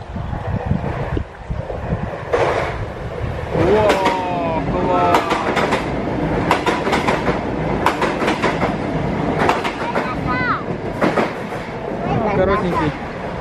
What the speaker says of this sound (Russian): Это поезд из Тбилиси в Батуми.